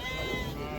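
Sheep bleat amid the crowded noise of a livestock bazaar at Uzynagash near Almaty, a short continuous bleat heard close against a dense background of market murmur.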